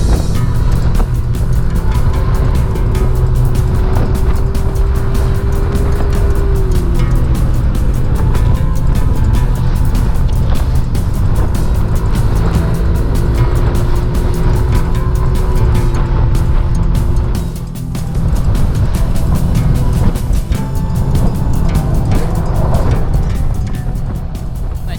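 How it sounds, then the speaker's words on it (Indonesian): A Yamaha Mio M3 125 scooter engine runs loud and close, its pitch rising and falling as it revs, with a brief dip near the end. "nikmatin aja raungan suara, bukan raungan, jeritan ya, suara motor Mio M3 ya 125 ini ya"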